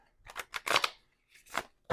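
A deck of Loteria cards being shuffled, giving quick crisp riffling bursts in two close groups separated by a short pause, fairly quiet and close.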